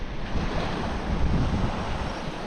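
Steady wind on a salmon fishing beach with surf, a continuous loud rushing and buffeting across the microphone with no pauses.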